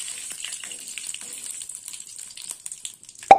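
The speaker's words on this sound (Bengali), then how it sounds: "ফোড়নটা ভাজা হোক।" Panch phoron five-spice, two dried red chillies and a bay leaf fry in hot oil for a vegetable chorchori, giving a soft, steady sizzle that ends in a sharp thump.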